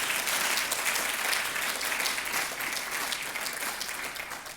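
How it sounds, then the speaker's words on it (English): An audience at a closing ceremony claps in sustained, dense applause that holds steady and loud, then tapers slightly toward the end. "I'd like to ask you to give yourselves a round of applause"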